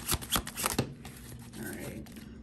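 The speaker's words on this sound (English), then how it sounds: "I'm going to go ahead and use some tarot. I'm going to go ahead and shuffle now." A deck of tarot cards is shuffled in a few quick riffling bursts up close, followed by softer handling and faint background murmur.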